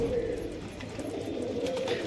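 High-flyer pigeons at a home loft in Liluah, Howrah, give soft, steady cooing close by, with faint background chatter and rustle throughout.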